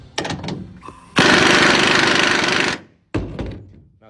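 A hard, loud burst of an impact wrench hammering for about a second and a half on a bolt of a 2009 Ford F250 bed rail, framed by short clanks and metallic handling before and after.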